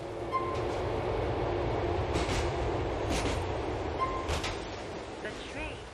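Continuous rumble of a subway train in Grand Theft Auto IV running on tracks, with faint rhythmic clicks and occasional higher whines, steady and fairly close.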